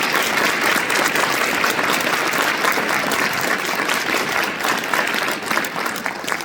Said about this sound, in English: Yes, please applaud them.